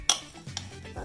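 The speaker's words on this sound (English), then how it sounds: "I'm gonna add the apples to the melted butter. Stir to combine them." Apples being stirred into melted butter in a pan, a sharp clink of a utensil against the pan, then soft scraping under a faint sizzle, close and brief.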